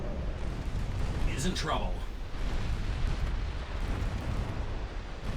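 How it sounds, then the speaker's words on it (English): Torpedo hits exploding against warships in the naval strategy game Ultimate Admiral Dreadnoughts, a steady heavy rumble of booms and blasts running throughout, with someone talking over it. "Dot torpedo hit, and another dot torpedo hit"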